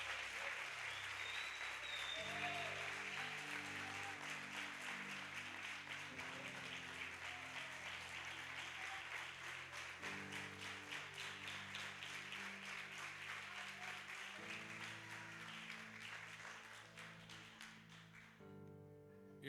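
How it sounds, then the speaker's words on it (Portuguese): A congregation at a miracle and deliverance crusade claps loudly and steadily for Jesus. Sustained applause runs under organ-like sustained chords, then fades toward the end. "Eu quero uma forte salva de palmas para Jesus."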